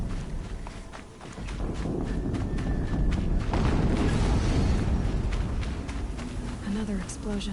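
A rumbling explosion from the Horizon Zero Dawn video game builds to a sustained loud roar with crackling bursts, heard under someone talking.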